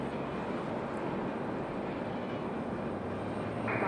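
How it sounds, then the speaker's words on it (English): Embraer E175 regional airliner arriving at Raleigh-Durham airport from JFK, a steady broadband jet roar heard from a distance, fairly faint and unchanging. "1 hour and 9 minutes of flight time for this E175 coming in from JFK"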